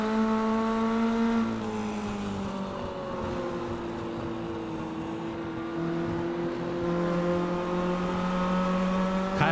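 A tight pack of race cars in iRacing's SPEED Dash Series at USA International Speedway, with engines droning continuously and shifting in pitch as the cars run close together.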